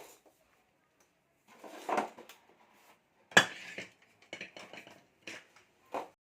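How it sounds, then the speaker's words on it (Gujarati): Dishes, pots and utensils clatter and clink at a kitchen sink, with scattered knocks and scrapes coming in short bursts and a sharp bang in the middle, followed by quieter clinks. "ચલો હું વાસણ કરી નાખું છું."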